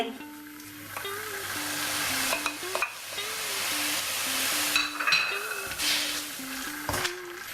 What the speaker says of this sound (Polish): Już warzywka nam podsmażymy, podsmażyły.